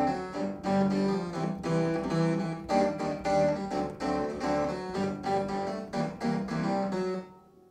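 Four layered pianos play jazzy chords full of tensions and sevenths in a steady, gently rhythmic progression, moderately soft and close, ending with a fade to silence.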